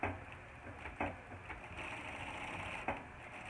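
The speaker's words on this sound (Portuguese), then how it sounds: "eu vou passar um pesponto de cada lado" A sewing machine topstitches along fabric, a close, steady mechanical whir with small ticks and a few brief pauses.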